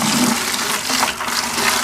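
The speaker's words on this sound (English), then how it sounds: "I want to fill this bucket up with water" Water from a hose with a small plastic adapter rushes steadily into a bucket, a continuous close hiss and splash filling the whole short stretch with no talking.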